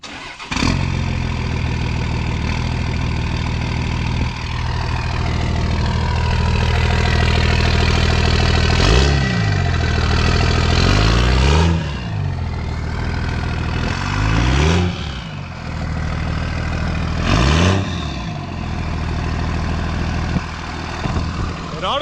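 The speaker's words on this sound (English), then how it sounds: "Start this Dodge up." A Dodge truck with a 24V Cummins diesel engine and stock exhaust starts up and settles into a loud, throbbing idle, with several revs swelling and falling throughout.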